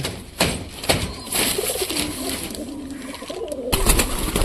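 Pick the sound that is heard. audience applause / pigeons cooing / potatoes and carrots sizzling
pigeons cooing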